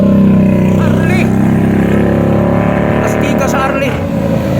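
A Harley-Davidson motorcycle engine rumbles steadily and loudly nearby, a deep continuous drone with a few throttle swells, while people talk over it.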